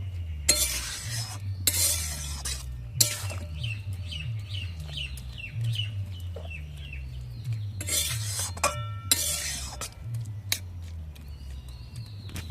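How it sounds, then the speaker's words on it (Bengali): Lentils and water spinach stirred in a pan, repeated scraping and clattering strokes of a utensil against metal in bursts, close and moderately loud, with faint background chirps between strokes. "এবার সব একসাথে ভালো করে একবার নেড়ে দেব"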